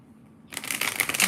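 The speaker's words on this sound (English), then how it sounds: "Let me just shuffle through this first here" Tarot cards shuffled close up, starting abruptly after a quiet moment as a dense, rustling flutter that continues to the end.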